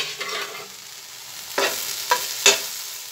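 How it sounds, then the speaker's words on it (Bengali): Okra fry gets stirred in a pan after the lid comes off: a soft background sizzle with three or four distinct scraping strokes of a spatula, the last one sharpest. "তো ঢাকনা খুলে আমি আবার নেড়ে দেব।"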